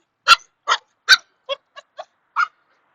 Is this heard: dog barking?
yes